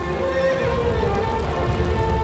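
A horse in the video game Shadow of the Colossus gives a loud, drawn-out neigh, with a few hoof clip-clops heard at the start and a steady background wash underneath.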